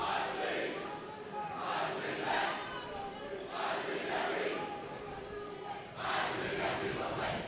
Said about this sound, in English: I love that chant.